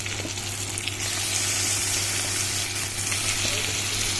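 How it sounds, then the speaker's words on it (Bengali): Mutton pieces dropped into hot spiced oil, a loud steady sizzle and hiss that intensifies after the first second, with faint scraping and no speech. "এরপরে একে একে মটনগুলো দিয়ে দিলাম।"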